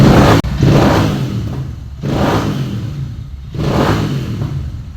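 An Interceptor 650 motorcycle engine revving in three rising, rumbling swells, each throttle blip fading before the next, heard close and alone.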